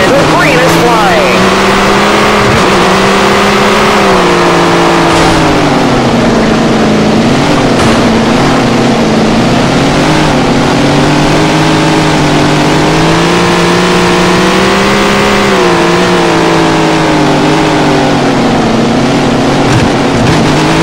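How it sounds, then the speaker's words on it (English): A field of dirt race cars in the Tony Stewart All-American Racing video game roars off the start as a continuous loud engine drone that rises and falls, with commentary over it. "And here they come for the start of the race."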